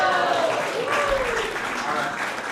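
An audience claps at a live event, a steady wash of applause heard alongside faint music and a voice.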